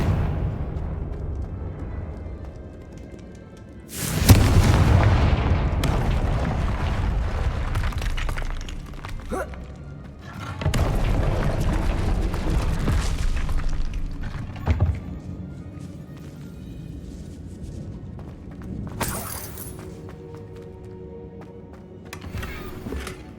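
Confringo blasting spells cast in Hogwarts Legacy, aimed at a boiler door: several heavy explosive bursts spaced seconds apart, each a loud crack followed by crumbling, shattering debris and rumbling echoes.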